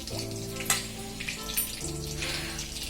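Mushrooms and potatoes fry in mustard oil in a kadhai, giving a steady sizzle with faint crackles over a low background hum, with no talking.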